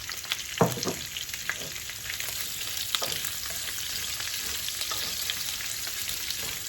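Sausage frying with bacon in a pan over slightly above medium heat, a steady close sizzle with a few sharp spatula scrapes and clanks early on.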